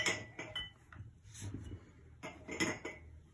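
Glass mason jars clink and knock against each other in soft, irregular taps while egg dyes are mixed for wax-resist Easter eggs. No one speaks.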